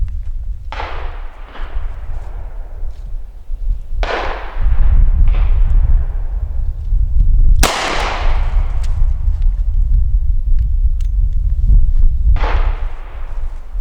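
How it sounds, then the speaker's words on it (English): Six loud, close revolver shots fired with .38 Special ammunition at the five-yard line of a shooting range, spaced unevenly with booming echoes trailing each report, and no talk. "So let's try 38 special again, 5-yard line."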